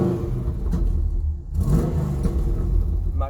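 Cold 1996 Pontiac Firebird Formula V8 with a 6-speed, revving in a steady, loud, throaty rumble that swells and dips, with no voices over it.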